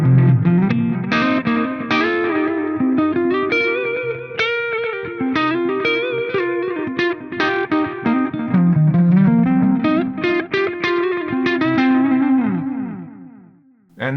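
An electric guitar plays through a Fractal FM3 preset built on a Band Commander amp model with light delay and reverb, a long, slightly driven melodic passage of clear sustained notes and chords, loud and alone.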